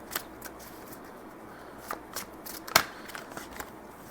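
Tarot cards are shuffled close by in a string of light papery riffles and flicks, with one sharper snap near the middle, over a quiet background without speech.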